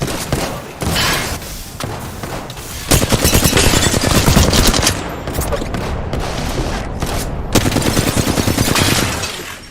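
Gunfire in the video game Apex Legends: loud, close bursts of rapid automatic fire, with thumping impacts and brief gaps between volleys, and faint voice callouts in the mix.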